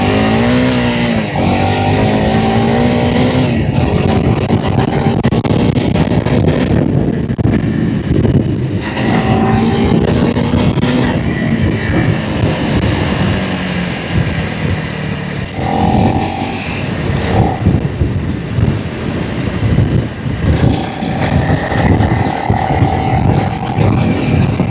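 2025 Honda CRF 300L Rally motorcycle ridden along a trail, its engine droning loud and steady with rising and falling revs, buffeted throughout by heavy wind rush.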